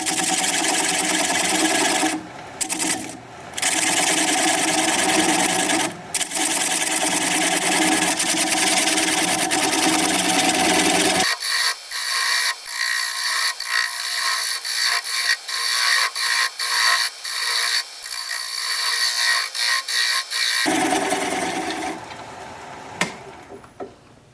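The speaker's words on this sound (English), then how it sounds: "I'm going to use a 3/8 inch bowl gouge and commence to removing that tenon." Wood lathe spinning at about 575 RPM while a 3/8 inch bowl gouge cuts away a tenon on a turned wooden piece, giving a steady close whir with scraping and rubbing cut noise that stops and restarts in several passes.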